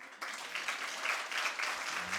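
A church congregation breaks into applause in worship, clapping starting abruptly and swelling in waves, fairly full and continuous through the moment.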